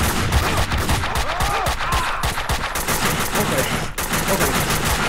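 Shooting at enemies in the video game Max Payne 2: rapid, loud bursts of gunfire crackle densely and continuously, with a brief pause near the end before the shots resume.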